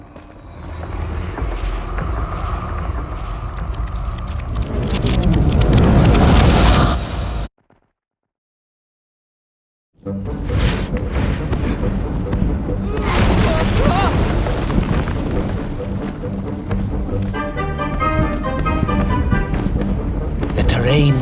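Volcanic eruptions and explosions in the video game Little Orpheus: loud rumbling booms and bursts under a narrating voice, breaking off into silence for a few seconds before the rumbling and blasts resume.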